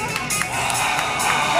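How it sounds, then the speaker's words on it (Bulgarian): An outdoor crowd at a strongman event in Kavarna cheers and applauds in a dense, steady roar of clapping and voices, loud and continuous throughout. "Аплодисменти, дами и господа, аплодисменти!"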